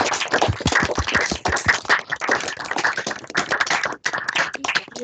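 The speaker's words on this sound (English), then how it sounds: "if everybody unmute themselves and give her a clap" Several unmuted participants on a video call clap for an event organizer, a dense, slightly uneven patter of hands with brief gaps, close and compressed through call audio, with no talking.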